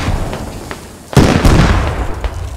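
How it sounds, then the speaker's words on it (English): A grenade exploding in the Squad military game, a sudden loud blast that cuts in abruptly, followed by a second crack and scattered distant gunfire over a noisy battlefield background. "Grenades if you got them."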